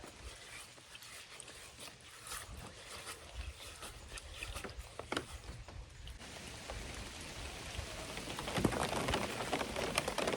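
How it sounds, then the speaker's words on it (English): Rain falling on a small farm, a soft pattering hiss with scattered drops on nearby surfaces, growing slightly heavier toward the end, fairly faint. "Really? It starts raining again?"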